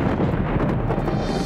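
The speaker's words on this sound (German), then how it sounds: "Oh, ein Gewitter." Thunder rolls through a cartoon thunderstorm in an animated Fireman Sam children's film, a loud, steady low rumble filling the whole moment with no speech over it.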